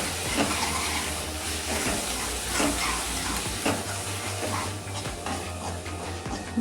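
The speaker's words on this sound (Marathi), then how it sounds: "मसाला पूर्ण तेलामध्ये व्यवस्थित परतून घ्यायचा आहे" Masala with red chili powder being sautéed in oil for a fish dish, a constant close sizzle with rhythmic scraping strokes of a spatula against the pan and a steady low hum underneath.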